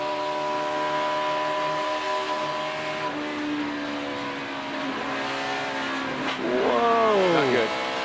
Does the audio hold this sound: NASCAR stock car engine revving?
yes